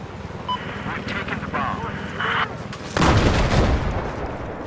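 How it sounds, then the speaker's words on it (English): Gunfire and booming blasts erupt in a Battlefield 4 Obliteration match on PS4 around a parking garage, a dense burst of loud shots in the second half after quieter game ambience, while a player talks over it. "Who's shooting me?"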